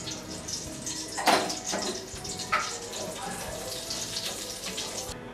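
Whole spices for tempering hit hot ghee mixed with leftover oil from frying raw banana, giving a bright, close sizzle with sharp crackling bursts that settles into a steady hiss.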